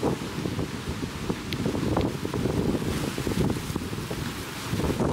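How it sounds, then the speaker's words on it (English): Strong wind near Seattle buffets the microphone in continuous gusty rumbles, with a wash of waves behind it. "It is so windy outside"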